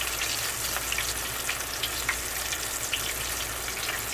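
Bone-in chicken frying in oil, with steady sizzling and small crackles and pops throughout, close up, no talking.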